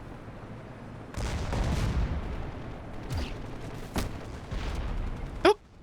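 Soldiers fire in Crysis, with bursts of gunfire and booming shots cracking at mid distance over a rumbling battlefield backdrop, plus a sharp sweeping sound near the end.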